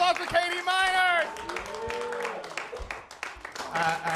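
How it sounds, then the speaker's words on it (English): Audience applause at a comedy show, heard under voices: dense clapping and crowd noise go on behind talk and shouts for a few seconds. "One more big round of applause for Katie Miners."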